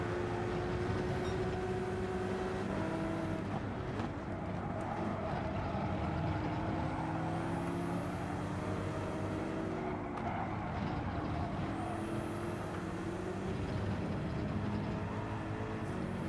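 Car engine droning steadily throughout a Nutcap driving race, with shifting tonal whines as the vehicle accelerates and slows, a continuous loud rumble with no talking.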